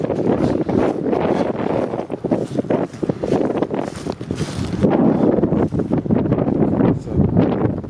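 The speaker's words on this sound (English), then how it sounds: "Windy out here." Strong wind blows continuously across an open outdoor battlefield at Chickamauga, buffeting the microphone with a loud, gusty roar that rises and falls but never stops.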